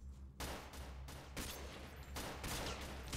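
Repeated pistol shots in S.T.A.L.K.E.R. Call of Pripyat, a string of loud sharp reports at an uneven pace across the span, no speech over them.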